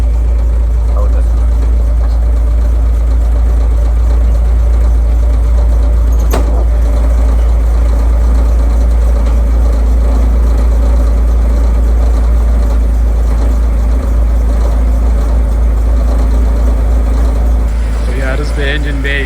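Car engine idling steadily in an open engine bay, a loud continuous low rumble with a constant hum that holds throughout, with a brief click partway and a shift near the end.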